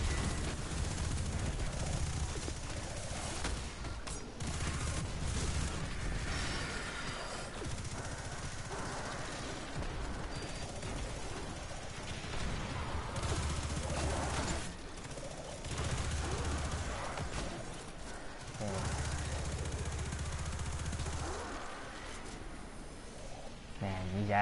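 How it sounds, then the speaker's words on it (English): Explosions and gunfire in the shooter game Destiny 2: Shadowkeep, a continuous wash of rapid shots and repeated blasts in bursts, moderately loud, with a voice talking over the combat at times. "So many explosions, it's hard to see."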